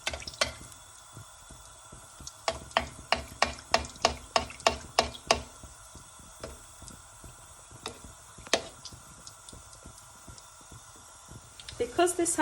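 Chicken kachori frying in oil in a kadai, a steady sizzle marked by a run of sharp ticks and clinks as pieces are turned, with a voice talking over it.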